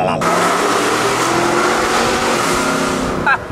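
A lowered Ferrari's engine roars loudly and steadily up close, a continuous obnoxious drone holding throughout with a brief extra flare near the end.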